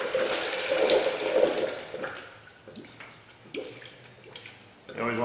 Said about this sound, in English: You always want to make sure the smart funnel is burping back at you.